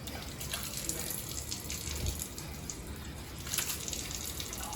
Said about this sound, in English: he's washing his face because lots of dust